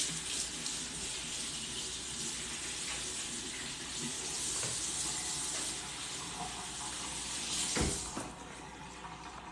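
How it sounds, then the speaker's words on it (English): Hands rinsed under a running kitchen tap, a steady, loud rush of water for several seconds with small splashing shifts, tapering near the end. No talking. "I'm gonna rinse my hands real quick."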